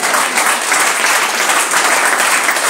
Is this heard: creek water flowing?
no